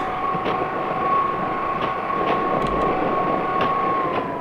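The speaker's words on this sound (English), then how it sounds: "We have a tram going around here." A small tram runs along its rails nearby, a steady loud rumble of wheels with a sustained high tonal whine and faint rhythmic clicks over the track joints, heard alone throughout.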